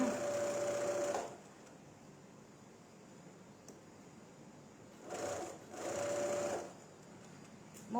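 Sewing machine stitching a gathered sleeve: a steady whirring run of stitching for about a second, a pause with faint room hum, then two more bursts of stitching near the end.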